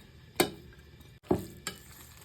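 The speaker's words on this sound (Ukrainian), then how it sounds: "тепер змішуємо із рисом" Chopped boiled eggs being mixed into cooked rice for a pie filling. There are three distinct scraping, clattering strokes of a utensil against a bowl, separated by quiet pauses, close and fairly soft.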